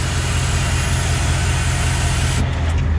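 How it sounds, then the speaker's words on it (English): A loud pickup truck engine idles with a deep, steady low rumble, close by and continuous. "I know my truck is pretty loud"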